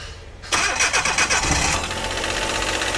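Engine of a converted wagon car cranks briefly and catches, then settles into a steady, loud idle close by, with no talking.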